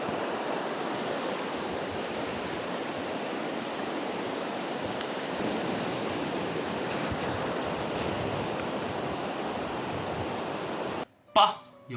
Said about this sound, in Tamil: பா எவ்வளோ பெரிய வாட்டர் ஃபால்ஸ், விண்ணை பொழந்துட்டு தண்ணி கொட்டுற மாதிரி தெரிஞ்சுங்க.